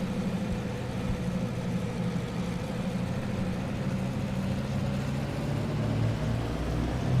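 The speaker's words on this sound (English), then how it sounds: "Oh, our engine RPM was too low." A plane's engine in a flight simulator game drones at low RPM, a steady, dense low rumble holding constant throughout with no talking.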